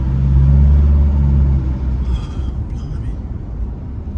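A car drives and slows under braking on a test run after a camber bolt replacement, a loud low engine and road rumble that eases as it decelerates, with no distinct clunk standing out.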